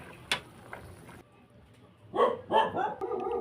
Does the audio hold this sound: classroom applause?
no